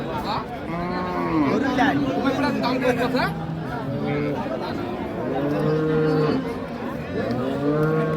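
Cows moo repeatedly, several drawn-out calls close by, at a busy rural cattle market in Dinajpur where Sahiwal cows and calves are sold, with people chattering around and one voice calling to the animals.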